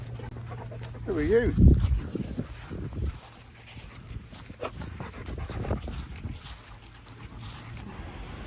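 Dog panting close by outdoors in a park woodland, quick soft breaths running under a man's speech and light rustling for several seconds.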